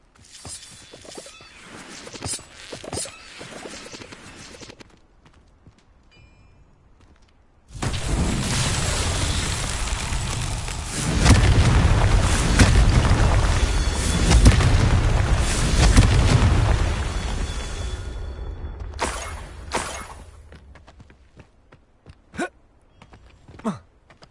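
A Confringo blasting spell explodes in the game Hogwarts Legacy, a loud booming burst that rumbles on for several seconds before fading, with sporadic clicks and small effects around it.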